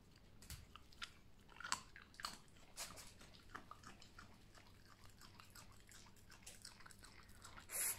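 A young fox chewing peanuts, with soft close crunching and biting sounds that come in irregular bursts at low volume, interspersed with small wet clicks.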